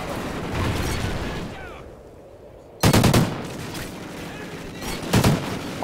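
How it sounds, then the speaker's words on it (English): A grenade explodes and gunfire rattles in a first-person shooter match: after a quieter stretch of distant shots, a sudden loud close blast hits, followed by more sharp gunfire bursts a couple of seconds later. "I just got hella naded."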